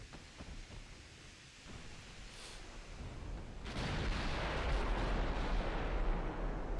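Heavy 14-inch naval gun salvos in the Ultimate Admiral Dreadnoughts naval warfare game, a deep rumbling boom that swells midway into a sustained loud roar, with no talking.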